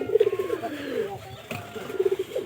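Domestic pigeons in a backyard loft coo in two rolling bursts, low throaty trills pulsing rhythmically, close and fairly loud, separated by a short pause with faint background noise.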